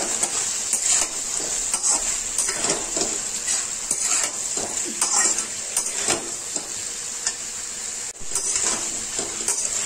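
Crushed mustard seeds and spices being stirred in a pan for a drumstick and potato curry, a low sizzle under repeated metallic scrapes and clinks of a spoon, close and steady with no talking.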